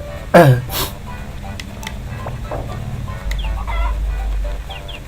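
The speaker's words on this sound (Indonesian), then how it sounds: "Ayam gua sudah ternak." Chickens clucking in the Harvest Moon: Friends of Mineral Town farm game, a loud rooster-like call near the start followed by quieter scattered clucks and chirps over a low steady game hum.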